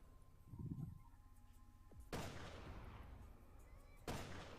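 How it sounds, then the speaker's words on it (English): Two loud, booming Magnum shots from the video game Resident Evil Revelations 2, about two seconds apart, each followed by a long decaying rumble, with a faint thud before them and no one talking. "And now I'm using the Magnum, running out of Magnum bullets, but I still have enough to take out enemies."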